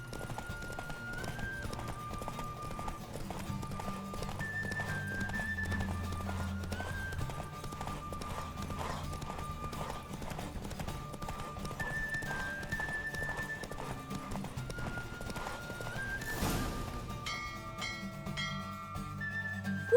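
A horse gallops in a race in The Witcher 3, a steady clip-clop of hooves under a bed of game music with whistled tones, one short whinny near the end.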